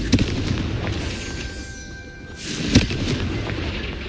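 Confringo fire spell blasts in Hogwarts Legacy, heard as two sharp booms about two and a half seconds apart over a dense, rumbling game soundscape, with no talking.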